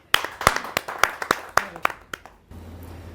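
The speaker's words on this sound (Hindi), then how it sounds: "आपकी जोरदार तालियां मिले" Audience members at a Hindi kavi sammelan give a few scattered, sharp claps to welcome the poet Rajendra Kalkal. The claps come in an uneven sparse rhythm and stop after about two and a half seconds, leaving a low hum.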